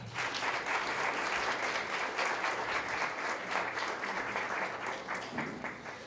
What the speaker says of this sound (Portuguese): Vamos receber o pastor Narra com uma salva de palmas